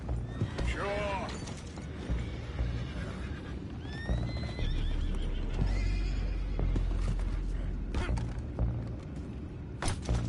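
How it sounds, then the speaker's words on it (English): Horses whinny repeatedly with hooves clopping beneath in Red Dead Redemption 2, over a busy background of rumbling game sounds and mechanical clanks. "Those horses down below."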